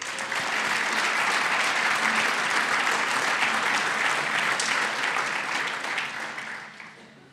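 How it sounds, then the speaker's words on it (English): Sustained applause from a large crowd at a hall of fame induction ceremony, dense and even clapping that holds steady before fading out at the end. "Applause, please."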